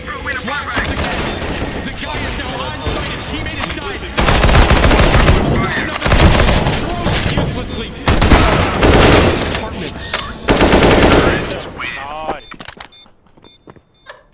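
AK rifle fire in a video game rattles out in loud, dense automatic bursts with short breaks between them, then thins out and fades near the end.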